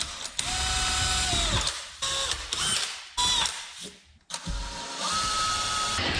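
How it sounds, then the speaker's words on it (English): A drill bores holes into a wall through a mounting template for a Mr. Cool DIY mini split heat pump, spinning up in several loud, separate bursts with brief pauses between them. "now that we have our holes drilled, we're going to take that mounting template off"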